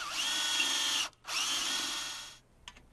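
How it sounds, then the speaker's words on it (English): A power drill boring 3/16 holes into a PVC rail whines in two loud sustained bursts separated by a brief pause, then trails off into a few faint clicks. "When attaching the rails, drill 3/16 holes at an angle."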